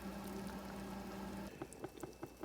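Pork stock with bones, salt, pepper and garlic simmering in a pot, a steady bubbling wash that gives way to soft, separate plops and pops of bursting bubbles, fairly quiet and close.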